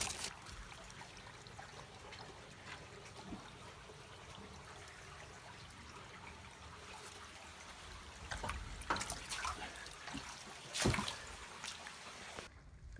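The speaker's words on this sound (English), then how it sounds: "Look at the freaking water running out of here." Water trickling through the stonework of a flooded fieldstone basement wall, a faint, steady dribble with occasional louder splashes and drips.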